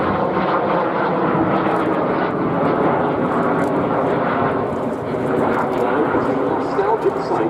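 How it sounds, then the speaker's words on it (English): Two Jet Provost jet trainers roll out after landing at Duxford airfield during an airshow, a steady broad engine roar held throughout, moderately near, with a voice talking over it. "Two aircraft pulling into a landing roll."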